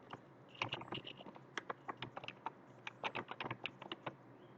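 Card details typed on a computer keyboard: quiet, irregular bursts of crisp key clicks, some rapid runs and short pauses, close and alone with no talk.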